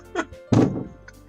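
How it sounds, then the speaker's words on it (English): A man bangs his head against a door: a light knock followed by a heavier dull thunk, close and brief, with a faint vocal sound around the impacts. "Jake is currently banging his head against a door"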